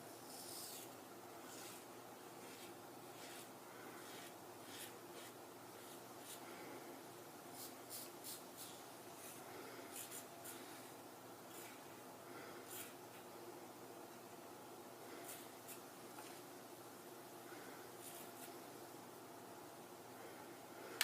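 Merkur Futur safety razor dragging across stubble during a shave, a continuous soft scratchy rasp with faint rhythmic stroke accents, close and quiet throughout.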